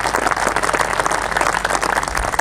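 Audience applause at a gaushala function for a young man, steady dense clapping filling the whole stretch at a fairly loud level with no voices.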